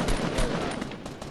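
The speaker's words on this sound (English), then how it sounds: "I'm getting shot at." Rapid automatic gunfire aimed at the player in a video game, a loud dense burst of overlapping shots lasting about a second with no talk.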